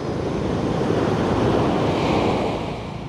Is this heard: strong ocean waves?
yes